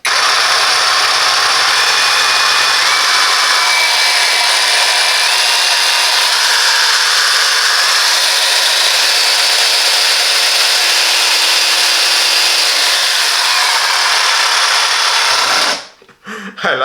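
Parkside 20V Performance cordless jigsaw cutting through wood, a loud, steady buzzing saw noise held for about fifteen seconds before ending abruptly.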